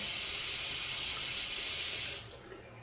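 Water runs steadily from a tap while shaving cream is rinsed off, a loud, even hiss that cuts off near the end, leaving quiet.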